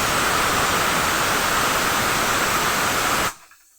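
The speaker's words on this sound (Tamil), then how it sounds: "அரைச்சிட்டு வந்த ஜீரக மிளகு தக்காளி எல்லாத்தையும் அதிலே ஊற்றிடுவேன்" Ground cumin, pepper and tomato paste poured into a hot tempering of oil and spices, giving a loud, steady broadband sizzle that stops abruptly near the end, with no talking.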